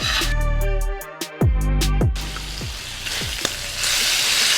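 Bacon frying in a pan for a green bean casserole, a loud continuous sizzle with sharp splattering pops, joined midway by clanking of a utensil against the pan.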